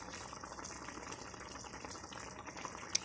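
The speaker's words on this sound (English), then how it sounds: "they are boiling so well, and I like the color" Mopani worms boiling in a pot of water, a continuous bubbling hiss and crackle that holds steady and close throughout, with no voices over it.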